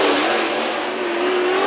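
Race cars in a heat race at Bakersfield Speedway hold a loud, continuous engine roar near at hand. A sustained tone rises slightly as they power around the track, and nobody talks over it.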